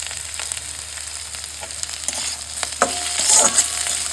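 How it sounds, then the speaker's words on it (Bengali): Chicken pieces fry in a pan for a dragon chicken dish, giving a soft continuous sizzle with occasional stirring scrapes and a louder burst of spitting near the end. "এরকম করে কিন্তু ভেজে দিচ্ছি আমি"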